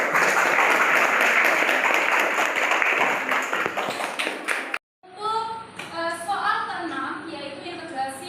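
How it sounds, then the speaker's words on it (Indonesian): A classroom gives group 5 a round of applause, a dense burst of clapping that thins out and stops abruptly. Children's voices and chatter follow the clapping. "Beri aplaus kepada kelompok 5."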